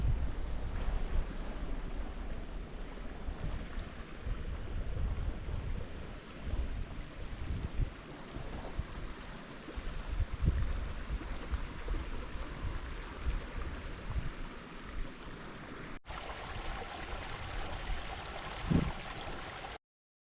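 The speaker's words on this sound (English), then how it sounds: "Nice little cool breeze on the path here" A steady cool breeze blows across a mountain path in the Mourne Mountains, County Down, a broad, even wind rush close to the microphone with no talking.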